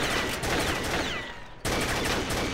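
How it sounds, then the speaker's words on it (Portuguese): Rapid automatic gunfire in the online shooter Combat Arms, dense and loud, bursting steadily before a short drop to near quiet, then resuming at full intensity. "Eu continuo atirando no mesmo lugar."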